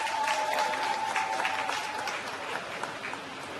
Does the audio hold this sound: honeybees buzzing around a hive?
no